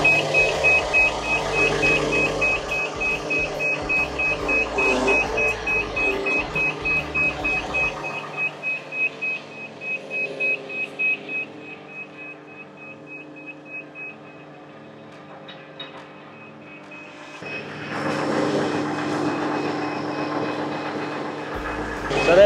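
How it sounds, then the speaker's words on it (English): The hydraulic system of a K4/K5 screening machine runs with a steady mechanical drone and a repeating high beep. The drone fades partway through, then a louder hydraulic whine rises toward the end. "we're going to start our hydraulics up, move it forward so our pins are free"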